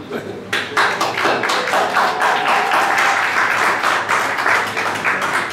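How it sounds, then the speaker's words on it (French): Audience applause during a French interview event with Jack Krine and Matthieu Durand, steady dense clapping sustained throughout, fairly close and loud, with no talk over it. "merci pour les applaudissements"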